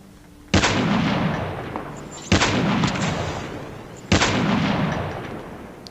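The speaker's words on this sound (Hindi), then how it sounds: "अब मुझे सामने से फायरिंग के साउंड सुनाई दे रहे थे" Three loud, heavy gunshots from a Call of Duty Mobile solo-versus-duo match, evenly spaced about two seconds apart, each followed by a long booming tail.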